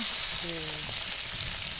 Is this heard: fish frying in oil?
yes